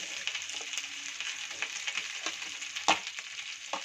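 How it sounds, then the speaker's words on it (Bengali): Capsicum, onion and chicken frying together in butter, a quiet continuous sizzle with light stirring clicks and one sharper scrape of a spoon in the pan, close and with no talk. "টমেটো ক্যাপসিকাম পেঁয়াজ দিয়েও এই বাটারের মধ্যেই ভালো করে চিকেনের সাথে সব ফ্রাই করে নেব।"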